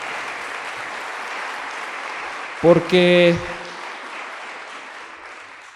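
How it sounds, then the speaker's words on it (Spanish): A church congregation gives volunteers a round of applause: a steady wash of clapping from many hands that fades toward the end, with a brief spoken word over it. "¿Por qué no les damos un fuerte aplauso a todos los voluntarios de nuevo?"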